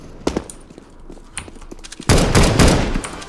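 Desert Eagle gunshots in the video game CS:GO during a Dust II deathmatch: scattered sharp pistol cracks, then a loud dense burst of gunfire near the end.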